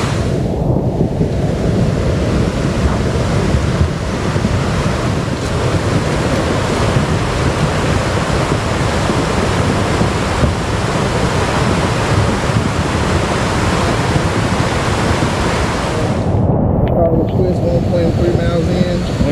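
A fast-flowing river current roars loud and steady beside a backpacking trail in pouring rain in the Olympic and Mt. Rainier area, a dense continuous rush that cuts off near the end.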